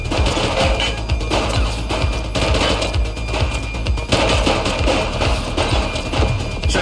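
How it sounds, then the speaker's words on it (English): Dense, rapid gunfire from a suspect in the police video game The Precinct crackles in continuous bursts of sharp shots, loud and close, with short pauses between volleys. "He's shooting!"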